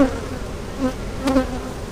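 Honey bees buzz at an open hive during a brood check for European foulbrood, a steady close drone with a few louder passes from individual bees, and no talking.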